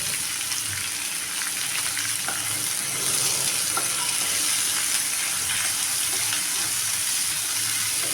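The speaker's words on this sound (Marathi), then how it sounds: "हा कांदा आपण ब्राऊन कलरचा होईपर्यंत भाजून घेणार आहोत" Chopped onion frying in a pan until brown for a quick onion-tomato chutney, giving a steady, dense sizzle with faint stirring scrapes, close and continuous without talk.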